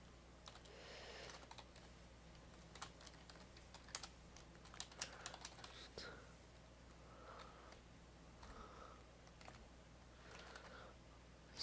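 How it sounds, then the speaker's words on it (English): Rapid bursts of typing on a computer keyboard, quiet and close, with irregular clusters of key taps and brief pauses between them, and no one talking. "I'm just going to quickly type out some stuff"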